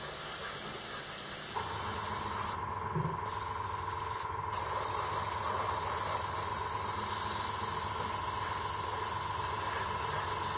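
An airbrush driven by a compressor sprays a base coat onto a MiniArt T-44 tank model, giving a steady, close hiss with a constant hum underneath that runs throughout.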